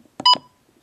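A NOAA weather radio gives two short, sharp electronic beeps in quick succession as its select button is pressed, close and clear against silence.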